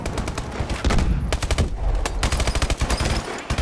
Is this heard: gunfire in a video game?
yes